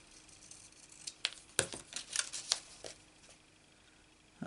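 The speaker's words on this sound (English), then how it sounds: "I'm just going to cut them with the scissors." Scissors snip through small pieces of paper for a papercraft project, several crisp cuts in an irregular burst with light paper rustling between them, close and fairly quiet.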